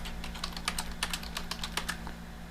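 Typing on a computer keyboard: a quick, uneven run of crisp key clicks at close range, steady for a couple of seconds over a faint constant hum, with no voices.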